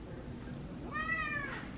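A single clear, mid-length meow from a house cat, close and distinct against low indoor background noise.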